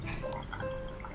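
Water drips from a small hole in the bottom of a Malaysian egg cooker into a collecting bowl, faint soft drops over a steady background hum.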